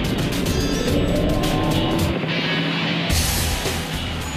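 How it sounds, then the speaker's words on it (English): BMW M3 GT and Ferrari race cars roar past at the Nürburgring 24-hour race on intermediate tires in wet conditions, engine noise loud and continuous with a pass-by swell midway. "The choice of intermediate tires finally pays off, and the BMW M3 GT overtakes the Ferrari."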